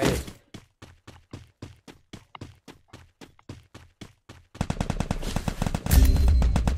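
Rapid bursts of automatic gunfire from a shooting video game, a steady series of short cracking shots that gives way to a dense, louder barrage near the end, with no speech.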